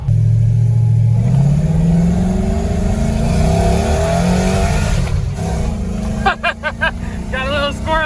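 An LS-swapped Chevy Colorado accelerates hard, its engine note climbing through the gears loud and close inside the cab before easing off, with voices talking toward the end.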